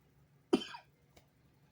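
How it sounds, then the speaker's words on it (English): A single sharp cough, close and fairly quiet, followed by a faint second catch in the throat, then silence. "Sorry about the cough."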